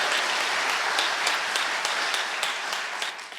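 Church congregation claps warmly to welcome a pastor, a dense, steady roar of many hands that tapers slightly toward the end.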